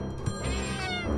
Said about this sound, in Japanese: 猫は電話の音に怯えるのか。